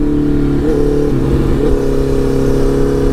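A rented Honda CBR 650R motorcycle on the road in Vietnam, its engine humming steadily and loudly close by, with a brief rise and shift in pitch partway through as the rider works the throttle.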